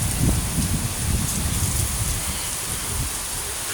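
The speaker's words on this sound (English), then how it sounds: "It's raining." Heavy rain pours down during a Pennsylvania thunderstorm, a dense, continuous roar of drops close by with no voices.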